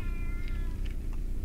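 A cat meows in the video game Shogo: Mobile Armor Division, a few short drawn-out mews over a steady, loud game soundscape with a low rumble beneath.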